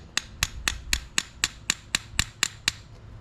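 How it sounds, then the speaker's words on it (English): Ten or so sharp metallic taps of a brass hammer on brass carburetor fittings from a Honda CL450, evenly spaced in a steady rhythm, close and clear with no talking. "Notice I'm using a brass hammer because these are brass fittings."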